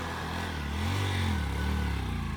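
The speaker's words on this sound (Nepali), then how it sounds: "अलिक रेस गरेर तान्न" A motorcycle engine revs hard to climb a hill in Nepal, a loud steady mid-pitched drone that rises and swells as the throttle opens.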